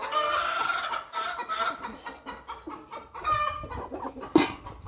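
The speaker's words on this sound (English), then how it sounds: "Just going to give the chickens some corn because they're clucking around me" Several chickens cluck and murmur close by in a loose, irregular chatter, with one sharper squawk near the end.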